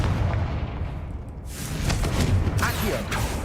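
The Confringo blasting spell in the Hogwarts Legacy video game, a loud booming blast that swells into a sharp burst and rumbling crackle, with a voice briefly audible.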